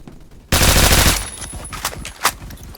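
Suppressed Honey Badger rifle fire in a shooter video game. A loud, dense burst opens, followed by quieter rapid muffled shots and a few sharper cracks, with no talking.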